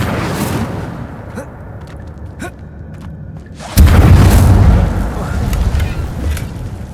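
Incendio fire spell cast in Hogwarts Legacy, a sudden loud whooshing burst around the middle of the clip after quieter game ambience, roaring on for a few seconds before settling.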